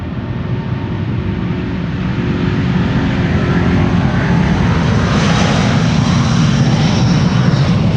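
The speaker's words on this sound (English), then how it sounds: "an A330neo Delta Airlines Flight 57 to Salt Lake City" Delta Air Lines Airbus A330neo, Flight 57 to Salt Lake City, departing Amsterdam Schiphol on a sunny day: a loud, steady engine roar that swells slightly over several seconds, broad and rumbling with no talk.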